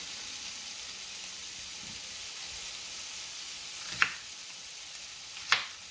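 Chunky-cut shallots fry in a pan with eggplant and beef, giving a steady, close sizzling hiss broken by two sharp clicks near the end.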